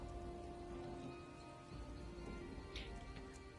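Steady rain pours down in The Elder Scrolls Online during a storm, a dense, continuous patter on surfaces with a faint rumble beneath, quiet and unbroken throughout.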